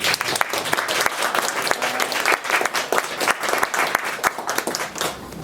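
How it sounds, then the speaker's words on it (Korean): Audience applause at a traditional hanok concert honoring composer Isang Yun, a dense crowd clapping steadily and loudly throughout, with a faint voice murmuring underneath. "박수 한번 응원을 받고"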